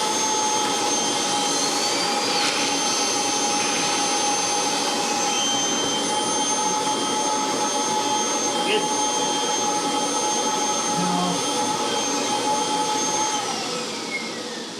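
Kirby Generation 3 upright vacuum cleaner with a TK 286 attachment on carpet, a loud steady motor whine with sustained tones that runs throughout and begins to wind down near the end.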